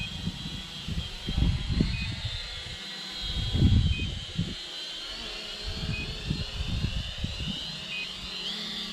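A Triple R 58 RC airplane returning home on autopilot drones with a buzzing motor, swelling and fading as it passes nearer and farther, with wind noise in the background.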